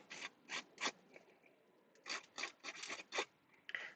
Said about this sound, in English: What I could do is just roughen up all the edges